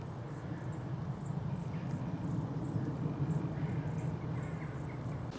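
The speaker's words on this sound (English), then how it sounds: "Plenty of crickets and grasshoppers in here." Crickets and grasshoppers chirping in the grass on a heath walk near Box Hill, with a continuous, rapid shimmering trill and fainter pulsing chirps layered over soft background rumble, no one talking.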